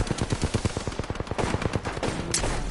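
Rapid automatic gunfire in the video game Apex Legends, a fast regular burst of close, punchy shots that thins out toward the end.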